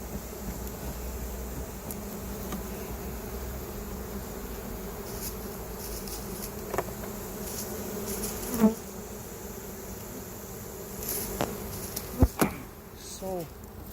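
Honeybees swarm around an opened hive during a brood inspection, a continuous close, steady buzzing hum with occasional sharp clicks and knocks from handling the frames.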